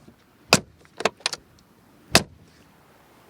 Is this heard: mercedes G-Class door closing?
yes